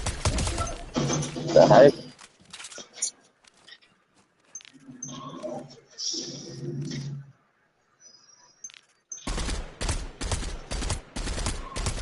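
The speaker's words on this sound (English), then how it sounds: "Boss is shooting me." A boss fires at the player in the Salvage survival video game. Rapid bursts of gunfire open the passage, then return as clustered volleys near the end, with a quieter stretch between them and a short startled exclamation from a voice.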